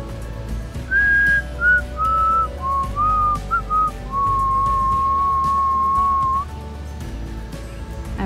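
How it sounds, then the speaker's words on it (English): Someone whistles the slow melody of "We Three Kings" close by, a series of clear notes ending in one long held tone, over quiet outdoor background. "Every time I come out here to visit the hawks, I whistle"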